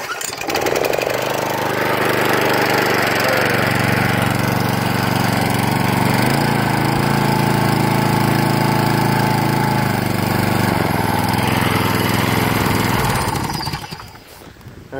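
A Snapper lawn mower's small engine fires up and runs steadily at a loud, rattling drone close by for over ten seconds, then cuts off near the end.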